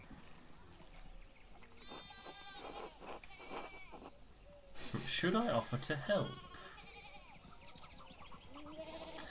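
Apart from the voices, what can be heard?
sheep bleating in video game Pentiment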